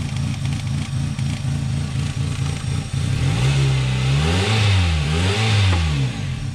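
Car engine running on maple syrup in place of motor oil, idling with a steady pulsing note before revving up and down in several loud swells, close by and with no talk.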